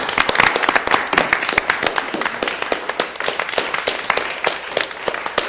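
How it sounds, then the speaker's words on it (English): An audience at a city planning commission meeting claps in a steady round of applause, dense and continuous, fairly close and loud, with no talking. "Members of the audience that's left, please let's give a round of applause to Jessie Schmidt"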